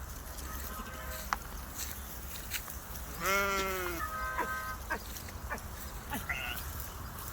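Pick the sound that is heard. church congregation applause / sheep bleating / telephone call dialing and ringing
sheep bleating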